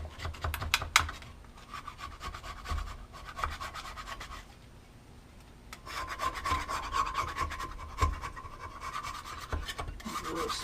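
Old gasket material being scraped off the engine of a 1987 Jeep Comanche, a steady run of close rasping and scratching strokes with a brief quieter pause midway, no talking.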